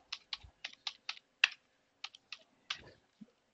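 Password typed on a computer keyboard during an operating system install, a run of about a dozen crisp, close key clicks in an uneven rhythm with brief pauses and no speech.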